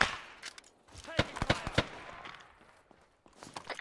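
Pistol gunfire from the video game ARMA crackles in a quick string of sharp shots amid faint movement sounds and distant fire, fairly quiet overall.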